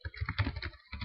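Quick keystrokes on a computer keyboard tap out in a close, busy run, with a brief pause before a final press.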